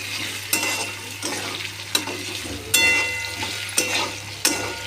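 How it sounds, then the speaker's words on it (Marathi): A spoon stirs potato poha with turmeric in a pan, scraping in repeated rhythmic strokes about once a second over a low, steady sizzle. "आपण आता यात थोडीशी हळद टाकून घेणार आहे. पोह्यांना कलर छान येईल. व्यवस्थित मिक्स करून घ्यायचं आहे."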